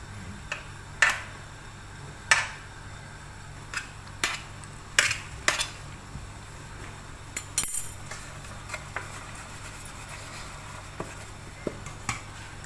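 Onde-onde balls are tossed in grated coconut in a bowl, with a scattered run of sharp, close utensil clinks and taps against a faint steady background, with no voices.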